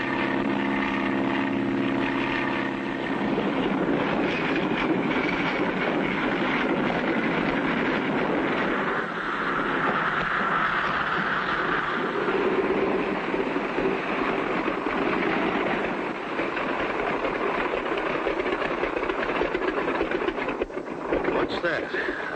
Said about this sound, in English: I hear a motor